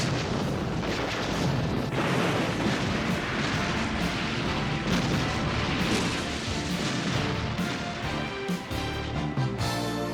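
A massive explosion from the 1989 anime film Baoh: The Visitor, heard as a loud, continuous roaring blast with deep rumble and crackling debris lasting about ten seconds, without any voices.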